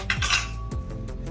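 Metal lids and pots from a DS-308 camping cooking set clink together, a couple of sharp close clanks followed by lighter rattling touches.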